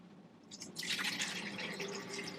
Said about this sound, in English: So take that, pour it into a blender.